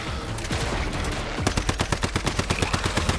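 Rapid bursts of automatic gunfire from a weapon aimed through a collimator sight in the survival shooter Once Human, firing in a steady stream of loud, evenly spaced shots over a dense game soundscape.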